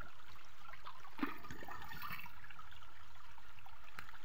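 Small stream flowing beside an old coconut tree, a steady soft rushing and trickle of water close by, with no talking.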